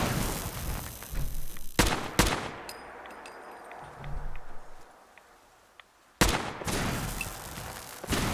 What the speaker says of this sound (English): So that'll be the Tesla gun.